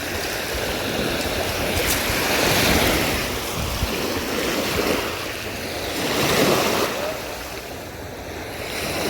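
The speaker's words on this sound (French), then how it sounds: "comme j'entends que les vagues, ça me stresse" Ocean waves wash onto a stony beach, a loud, continuous surge that swells and recedes in slow cycles with wind buffeting the microphone.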